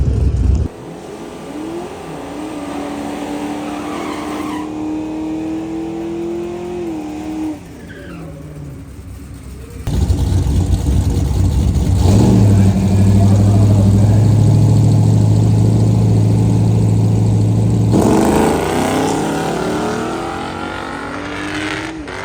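A street-legal drag race car at a drag strip launches hard and climbs through its gears one at a time, the loud engine rising in pitch between shift breaks before roaring on and fading toward the end.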